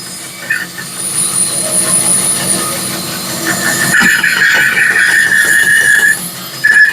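A steady mechanical saw whirs through an osage orange log, with a brighter, higher whine rising partway through as the blade bites deeper.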